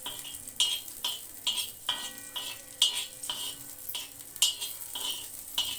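Green chillies sizzle in hot oil in a pan while being stirred, with a steady crackling fry under repeated sharp scraping strokes of a spatula against the metal, close and fairly loud, no voices.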